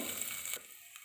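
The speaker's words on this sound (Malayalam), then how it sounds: "ചോളം ഇട്ട് കഴിഞ്ഞ് നല്ലപോലെ ഇളക്കുക" Popcorn kernels sizzling and frying in a pan as they are stirred, a steady close hiss with faint scraping that drops to a softer sizzle partway through.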